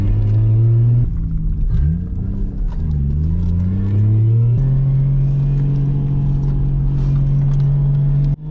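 Toyota JZX110 car driving laps on a wet Gunsai touge course, its engine droning loudly and steadily with rising and falling revs through gear changes, close and continuous with no talk.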